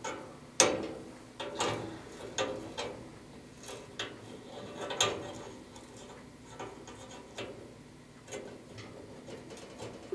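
Wrenches work a small brass gas line nut loose on a ventless gas heater that keeps going out, giving scattered metallic clicks and ratcheting ticks at an irregular pace. The sounds are fairly close and moderately quiet, with no talk.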